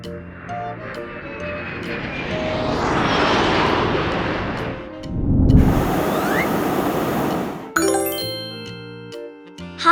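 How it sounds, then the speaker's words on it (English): A military army plane engine roars steadily across a busy mix, swelling to a loud pass and then fading, with chimes and jingling tones alongside. "Army plane."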